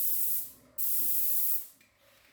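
Paint sprayer test-spraying onto drywall: two sharp, close hissing bursts, the second longer, with a faint tail of hiss afterward and no talking.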